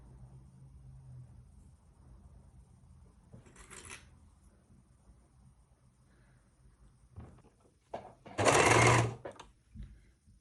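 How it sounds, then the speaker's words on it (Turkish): A sewing machine stitches around the collar of a stretchy knit V-neck tunic, with quiet low rumbling early on, a short burst near four seconds and a louder, sustained run of stitching near the end. "Esnek bir kumaş olduğu için esneterek dikiyorum."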